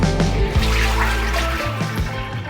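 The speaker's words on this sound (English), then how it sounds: "So I've emptied my water tank" Water trickles and splashes as it is emptied from the water tank of a La Specialista espresso machine, a close, steady pouring sound.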